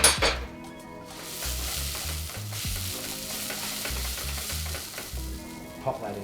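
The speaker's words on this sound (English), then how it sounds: "Give it a bit of a stir into the onion." Brown sugar is stirred into onion frying in a pan as the base of a barbecue sauce, with continuous sizzling, repeated scraping strokes and a few utensil clinks against the pan.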